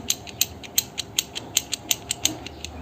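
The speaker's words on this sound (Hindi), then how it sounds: "तो ये गियर हमारा फिट हो चुका है, आपको इसकी आवाज़ सुनाई आ रही होगी।" A gear is fitted into a Bajaj motorcycle gearbox, producing a rapid series of sharp metallic clicks at an even rhythm, close up and alone.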